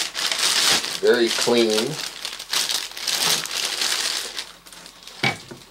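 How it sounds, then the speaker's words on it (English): Big plastic bag around a Makita XRM02W 18V job site radio crinkles loudly in bursts close by, with a person speaking briefly over it and a sharp handling knock near the end. "It's in this big plastic bag."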